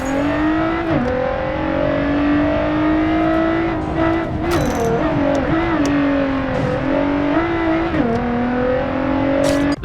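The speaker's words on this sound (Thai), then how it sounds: "เราจะได้ยินเสียงท่อ เสียงเครื่องแบบชัดเจนนะครับ" A race car engine in a mobile racing game roars continuously from inside the cabin, its pitch climbing and dropping as it shifts through gears, with a throaty exhaust note.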